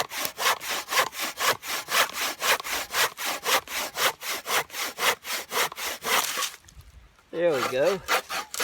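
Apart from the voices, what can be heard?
hand sawing poplar wood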